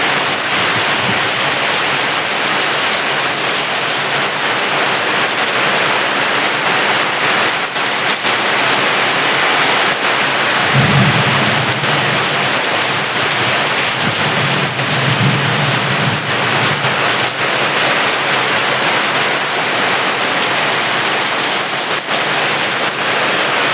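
Heavy rain during a thunderstorm pours down in a dense, unbroken roar that stays loud and steady throughout, with a faint low rumble swelling briefly twice near the middle.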